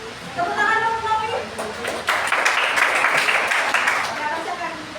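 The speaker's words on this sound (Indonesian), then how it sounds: "Tepuk tangan dulu Novi." A group of students in a classroom counselling session clapping together for a few seconds, moderately loud, with voices talking before and after.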